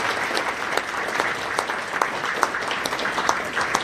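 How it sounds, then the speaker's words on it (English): Convention audience in a hotel ballroom applauds their host and staff at a Libertarian Party of Colorado gathering, an even, sustained crackle of many people clapping, close and lively throughout. "so if we could all give a round of applause to them and their staff"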